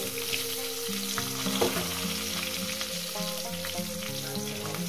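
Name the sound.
eggplant frying and being stirred in hot oil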